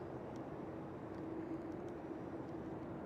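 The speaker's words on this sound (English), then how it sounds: "the Delta Airlines is pulling into the gate already" A Delta Airlines jet taxis to the gate at Schiphol Airport, heard as a steady, distant jet-engine whine and rumble with a faint tonal hum. There is no talking.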